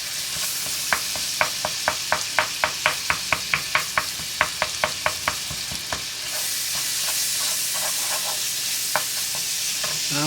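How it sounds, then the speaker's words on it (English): Ground meat browns in a sizzling pan for homemade spaghetti while a utensil scrapes and taps against the pan in a quick, even rhythm that slows and trails off, with no talking. "you stir this. Look how that's getting brown and good."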